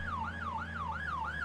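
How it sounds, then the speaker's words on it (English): An emergency vehicle siren wails in Farming Simulator 19, a steady rising-and-falling tone repeating about every third of a second, loud and continuous with low engine hum underneath. "I'd probably turn on the siren too"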